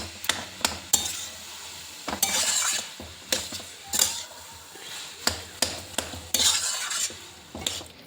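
Vegetable chop filling being mixed with potato in a bowl, with irregular knocks, clacks and scraping strokes of a utensil, some in quick clusters, close and fairly loud.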